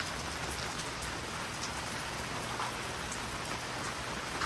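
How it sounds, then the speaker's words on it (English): Steady rain patters on a camper's topper overhead, a dense continuous drumming of drops with no voices. "Rain, rain, rain, rain."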